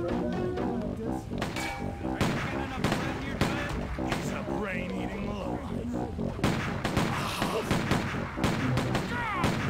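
In the video game Stubbs the Zombie, repeated loud gunshots and bursts of gunfire crack close by in rapid succession, mixed with game voices and growls.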